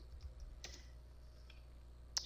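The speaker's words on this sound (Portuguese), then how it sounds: "Acabei digitando errado ali." Soft, faint clicks of typing on a computer keyboard during Java JDK download steps, a few scattered keystrokes over low steady background hum.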